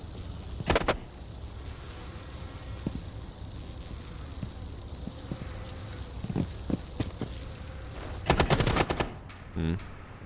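Gunfire in a shooter video game: scattered single shots through the middle, then a dense burst of rapid automatic fire near the end, with a steady background hum throughout.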